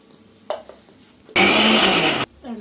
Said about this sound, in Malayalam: എന്നിട്ട് നമുക്ക് ഇതെല്ലാം കൂടെ ഒന്ന് മിക്സിയിലിട്ട് ഒരടി അടിച്ചെടുക്കാം.